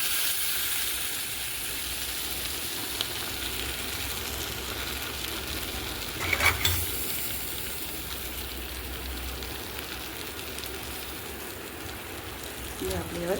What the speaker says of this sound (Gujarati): અને આ વઘાર આપણે રેડી દેવાનો.